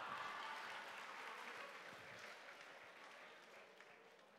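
Applause from an audience at a human rights day event, a soft, distant wash of clapping that stays even throughout and fades slightly toward the end.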